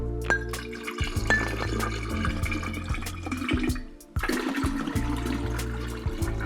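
Water is poured into an Ecto Cooler drink mixture, a steady loud splashing and gushing stream that briefly stops and then pours on again up close.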